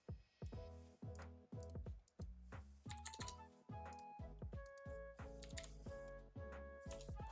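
Computer keyboard typing in quick irregular bursts of clicky keystrokes, close and fairly quiet, with no talking over it.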